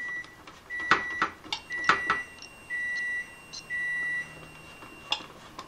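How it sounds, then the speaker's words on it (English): A multimeter set to continuity, tested across a switch on an oil-filled radiator, gives several sharp beeps. Some are short chirps and others are held tones about half a second long, loud and close, with a microwave's beeps and clatter mixed in. "So if it's working, it should beep when I turn it on."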